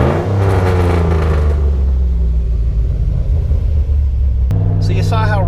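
A loud, deep engine idles roughly at 1,000 RPM with a lumpy, uneven rumble that stays steady throughout, then a brief higher whine near the end.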